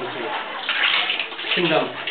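Water pours and splashes into a mixture of cow dung and groundnut oil cake during natural farming training, a continuous sloshing rush with people talking over it.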